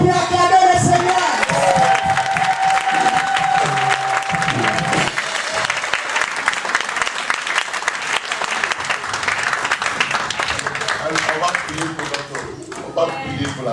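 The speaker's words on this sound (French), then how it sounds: "Est-ce que tu es prêt à acclamer le Seigneur?" A church congregation at a Sunday service in Paris breaks into loud, sustained applause and cheering for the Lord, with shouts and whoops rising from the crowd throughout.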